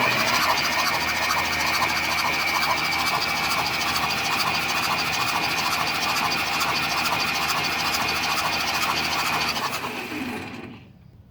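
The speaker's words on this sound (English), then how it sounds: "Engine seems to roll over clean" The engine of a 1967 Jeep Gladiator, dormant for over 30 years, turns over cleanly in a steady, even churn heard up close and alone, then cuts off abruptly near the end.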